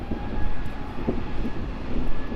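Airliner in Polish Olympic team livery at LAX, a steady broad jet engine roar heard from a spotting location, loud and continuous with no talk.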